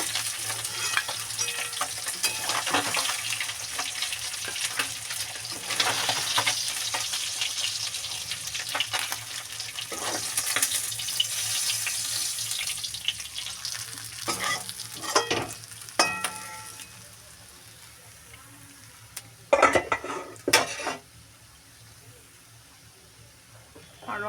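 Tilapia fish frying in oil, a steady broadband sizzle that runs continuously with brief clatters of stirring and handling, quieting near the end before a few sharper knocks.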